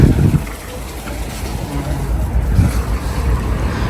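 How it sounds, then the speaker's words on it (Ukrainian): A small stream flows in Lviv, a steady rushing wash of water that swells and dips slightly, with a few indistinct voices underneath. "струмок."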